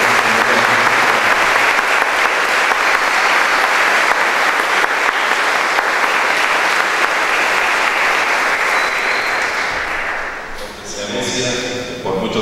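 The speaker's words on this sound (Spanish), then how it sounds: "le brindamos un fuertísimo aplauso." Loud, sustained applause from a church congregation at a Catholic confirmation Mass, dense and steady for about ten seconds before thinning out, with some voices and movement at the end.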